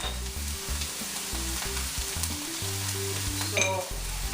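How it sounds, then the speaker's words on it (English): Chopped green onions sautéing in olive oil in a pan, a bright steady frying crackle over a low background hum, with a few stirring scrapes near the end. "I'm also going to throw in my green onions. Saute these about, I don't know, a minute or two."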